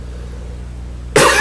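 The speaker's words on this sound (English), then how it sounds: "Excuse me, a bit of a cough." A single close, loud cough bursts out suddenly near the end, after a quiet stretch with a low steady hum underneath.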